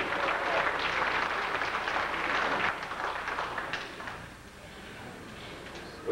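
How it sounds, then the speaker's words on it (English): At a speedway racing awards banquet, a crowd claps in a thick round of applause that holds for a few seconds, then thins and fades to scattered claps and room murmur. "we need to give a big round of applause"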